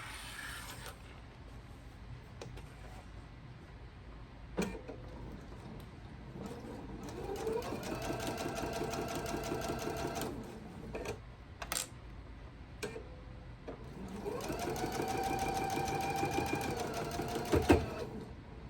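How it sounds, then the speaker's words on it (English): A sewing machine stitches a scant quarter-inch seam on a quilt block in short bursts, its rapid mechanical whirring starting and stopping, with scattered clicks and handling noises between runs. "I'm going to be sewing my scant 1/4 of an inch on this side going down"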